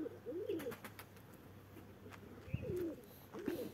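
Pigeons cooing during flying, soft repeated throaty coos in short phrases with brief gaps, fairly close and moderately quiet against faint background noise.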